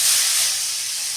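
Potatoes dropped into a little hot oil in a wok sizzle with a loud, steady hiss that eases slightly over about a second.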